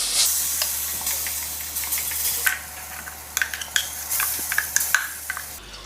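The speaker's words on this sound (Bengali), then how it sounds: "এবার এই ডাল বাটাটা এর মধ্যে দেব।" A chickpea lentil paste is poured into hot oil in a pan over a low flame and fries for dhokar dalna. It gives a steady soft sizzle, broken by scraping stirs and light clinks of utensil against pan.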